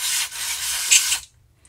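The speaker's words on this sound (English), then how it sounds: "Anywhere you see a hole, essentially you want to spray some fluid in there." An aerosol spray of cleaning fluid hissing into the holes of a lawn mower carburetor, one continuous close blast lasting just over a second before cutting off.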